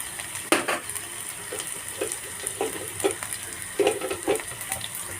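Fenugreek seeds crackle and sizzle in hot oil, with sharp pops and spits breaking out over a steady frying hiss.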